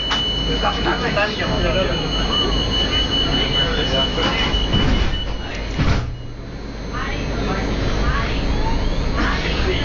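A tram rides along its rails, a loud, continuous rumble of wheels with metallic squeals and clatter, one sharp jolt midway, while voices are heard over the rolling noise.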